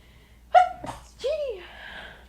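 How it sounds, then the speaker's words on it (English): A single human sneeze, a sharp sudden burst with a short gasping intake just before it, followed by a trailing breathy vocal sound, close and fairly loud. "Oh my God, I feel a sneeze coming on."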